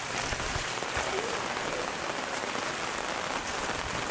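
Steady rain pours down during a flood, a dense, even hiss of drops striking water and hard surfaces that holds at the same close, loud level for the whole stretch.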